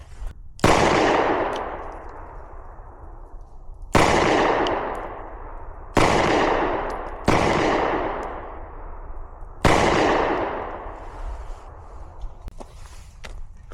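Pistol shots ring out at an outdoor shooting range from a CZ P10S, Glock 19 or Kimber Micro9 Rapide Frost, five sharp loud cracks spaced a few seconds apart, each followed by a long fading echo.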